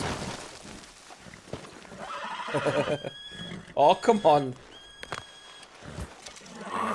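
A horse in Red Dead Redemption 2 lets out loud whinnies and snorts in a brief burst, mixed with someone talking.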